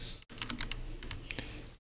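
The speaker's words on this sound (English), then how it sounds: "right now I'm just typing, so you can see how that goes." Typing on a computer keyboard while coding with Neovim: a quick run of close, crisp key clicks in irregular bursts, moderately quiet, stopping abruptly.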